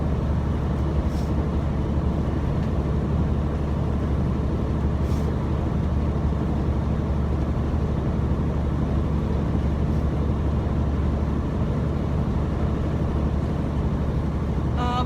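Steady, loud road rumble from a car driving on a road while passing a truck, a continuous broadband drone with no clear breaks or voices.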